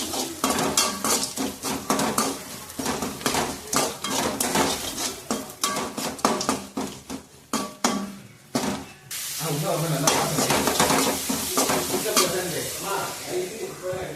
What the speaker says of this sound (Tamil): கருவேப்பிலை சேர்த்துக்கோங்க இது எல்லாத்தையும் நல்லா வதக்கிக்கோங்க